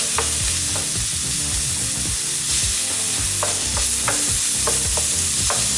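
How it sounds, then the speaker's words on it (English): Deboned, skinned chicken thighs sizzle loudly in a paella pan over onion and garlic, with steady frying hiss and repeated scraping, clattering stirs throughout. "I'm going to get these in the paella pan now as well."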